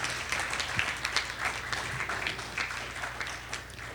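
An audience at a debate finals event gives steady, even applause from many hands throughout, moderately loud with a crowded, roomy feel.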